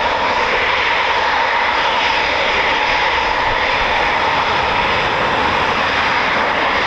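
A Eurofighter Typhoon FGR4 multi-role jet flies past at RAF Coningsby, its engine roar loud, steady and broadband, filling the air without a break and with no voices.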